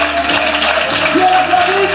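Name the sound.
audience applause at a conference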